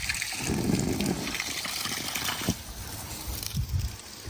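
Water rushes and splashes steadily as it fills an Intex Rainbow Ring inflatable toddler pool with a built-in sprinkler, with occasional louder sloshing bursts.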